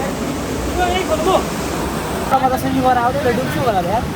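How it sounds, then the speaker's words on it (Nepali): Steady rushing water like a waterfall fills the background, with people talking over it. "झर्ना भेटिसकेको छ"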